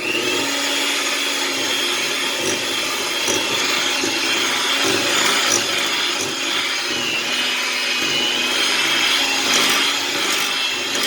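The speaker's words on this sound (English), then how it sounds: "So now we are going to put in 3 cups of sugar, and we're going to mix this up." An electric mixer creams sugar into cream cheese pound cake batter, a continuous loud motor whir with a grinding, scraping texture, close up and steady throughout, with no voices.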